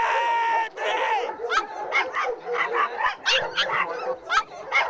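Yorkshire terriers working as police dogs bark and yip in quick repeated bursts, close and fairly loud, with a brief tone-like whine near the start.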